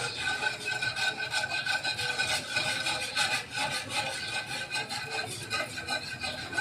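A spoon stirs thickening kurkure batter in a pan with a continuous scraping rub, moving in an even rhythm at close range with no talking.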